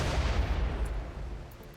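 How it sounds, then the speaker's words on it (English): A heavy, rumbling blast from the Doomsday Rocket Launcher in the Rimworld video game, a loud sustained explosive roar that fades over under two seconds, with no talking. "Oh, hey, Doomsday Rocket Launcher."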